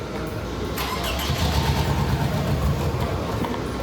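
A Toyota Camry engine cranks and catches, then runs at a steady, loud idle with a rough low rumble for a few seconds.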